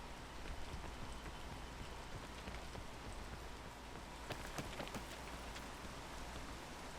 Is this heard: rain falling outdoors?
yes